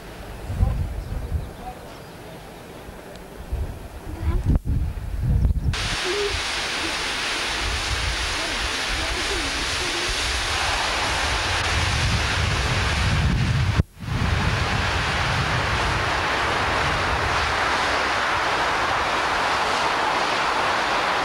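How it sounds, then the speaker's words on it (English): Water rushes down a stone-based weir spillway channel on a river at Otterburn Hall, giving a loud, steady roar close by that fills most of the stretch. Someone talks over quieter rushing at the start, and a brief knock breaks in midway. "The water comes flying down there, the stone base here. And over the weir and off down the river."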